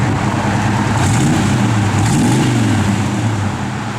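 A 1955 Ford F100 pickup with a small block V8 runs steadily, a loud close deep rumble with a brief rise in revs midway before settling back to a low burble.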